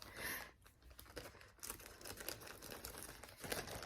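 Scissors cut open a small thank-you mailer package up close, giving quiet bursts of crinkling and tearing with short pauses between snips and rustles.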